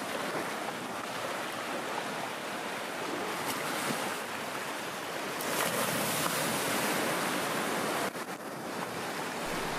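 Steady sea surf washes continuously against the shore at Inamuragasaki in Kamakura, a broad, loud roar of waves mixed with gusty wind buffeting the microphone, with no voices.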